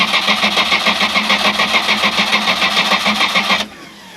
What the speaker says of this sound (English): See if I'll run it idle.